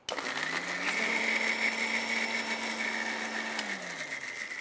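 A mixer grinder blending coconut paste whirs steadily at high speed for a few seconds, then winds down, moderately loud with a buzzy motor hum.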